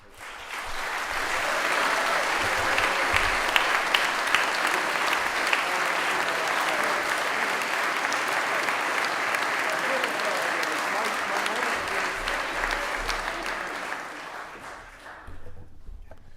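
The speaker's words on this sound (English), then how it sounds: "we can have a nice round of applause again for the whole group" A full round of applause for a girls soccer team fills a school chapel gathering. Dense, sustained clapping builds quickly, stays strong for about twelve seconds, then tapers off as a voice comes in at the end.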